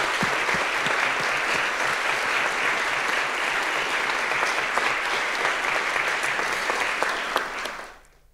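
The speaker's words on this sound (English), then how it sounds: "I ask you to give a warm applause to the translators." Warm, sustained applause from a conference audience for the translators at an international debate on climate justice, dense clapping for about eight seconds before cutting off sharply.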